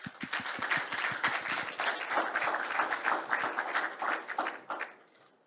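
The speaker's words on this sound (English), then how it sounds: "So please welcome Ambassador to the big round of applause." A conference hall audience at a hydrogen industry event gives a warm round of applause to welcome an ambassador, brisk overlapping claps that build, hold for several seconds, then taper away.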